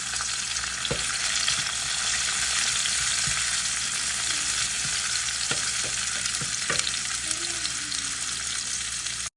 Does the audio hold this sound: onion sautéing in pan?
yes